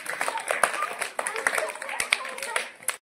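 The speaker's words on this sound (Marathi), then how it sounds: "वेदांसाठी टाळ्या वाजवा सगळ्यांनी" A group of children claps for a game winner in a lively burst of quick, uneven hand claps, close and fairly loud, mixed with voices talking over them.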